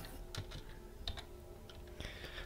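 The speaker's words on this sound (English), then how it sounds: "Wait, why am I typing in here?" Someone taps a computer keyboard during an online tabletop role-playing session, making a few quiet, scattered clicks close to the microphone.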